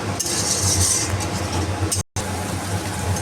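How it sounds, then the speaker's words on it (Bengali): Potato and pointed gourd being stirred with yogurt in a pan over low gas flame, with a steady soft sizzle and occasional light clinks of a spatula against the pan, continuous and close, with a brief cut in the middle. "এবার এটা দইয়ের সাথে আমি আলু পটলটাকে ভালো করে"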